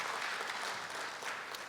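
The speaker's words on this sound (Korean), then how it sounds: "박수로 맞이해 주십시오." A crowd claps steadily at a Korea University anniversary ceremony, a continuous wash of applause at moderate volume with no talking.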